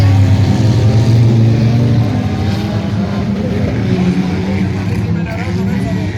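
Banger race cars in a men's final roar together in a dense, continuous engine drone heard from the crowd, loud and steady throughout with voices and crowd chatter mixed in.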